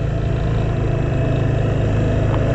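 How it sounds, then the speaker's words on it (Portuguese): A worn drive chain and sprocket on a 250 motorcycle whir and rattle in a steady rhythmic clatter, heard close and loud alongside the running engine without pause. "Esse barulho é de relação, viu, né? Do motor não."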